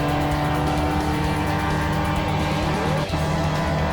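Porsche 944 Challenge race cars charging into turn 1, a loud, continuous pack of engine roar with shifting pitch and a rising whine from one passing car, close and unbroken.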